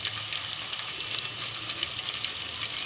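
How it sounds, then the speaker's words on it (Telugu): Ginger garlic paste fries in hot oil for hotel-style dum biryani, a steady close sizzle with light crackling and no talk. "ఇందులోకి 1 టేబుల్ స్పూన్ దాకా అల్లం వెల్లుల్లి పేస్ట్ని వేసుకొని పచ్చివాసన పోయే వరకు ఫ్రై చేసుకోవాలి"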